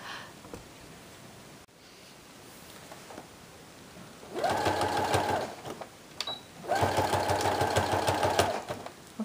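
Sewing machine stitching pants that are being remade into a skirt, with two sustained, loud runs of rapid mechanical whirring and needle chatter separated by a brief pause, after quieter handling and fabric rustle.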